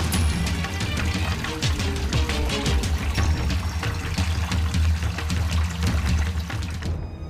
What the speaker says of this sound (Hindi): जिस जगह पर ये दो पहाड़ी नदियां आपस में मिल जाती हैं